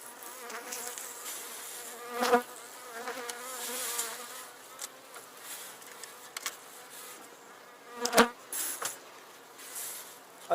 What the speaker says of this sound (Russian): Вы видите, что пчелы много.